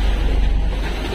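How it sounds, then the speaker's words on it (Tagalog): Strong wind and heavy swell at sea, with waves running 9 to 11 feet high, producing a loud, continuous low roar and rushing noise close to the microphone. "So ito yung alon ngayon, oh."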